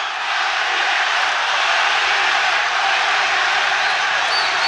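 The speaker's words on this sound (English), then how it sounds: "Just listen to the crowd." A boxing match crowd at the February 2000 Erik Morales versus Marco Antonio Barrera fight roars in a dense, loud, continuous wash of cheering from a large arena audience.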